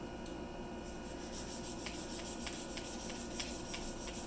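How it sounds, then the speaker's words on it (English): Steady close-up rasping of sandpaper rubbing back and forth across the grain over a hard Alumilite acrylic pen blank, with faint rhythmic strokes and no voices. "I'm going against the sanding marks I just put in the acrylic"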